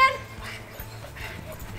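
A dog whimpering and yipping briefly in short, soft bursts at close range, with faint background noise.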